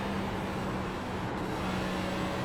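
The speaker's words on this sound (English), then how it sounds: "The sound of the engine, and the lead car is still gaining on us." A steady, droning NASCAR Cup car engine in iRacing at Texas Motor Speedway hums continuously at moderate volume, with no talking and no breaks in the sound.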